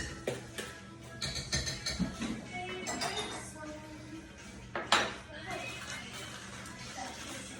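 Batter beaten by hand in a bowl with a utensil, producing rapid, light clinking and scraping strokes in a steady rhythm, under a person talking close by.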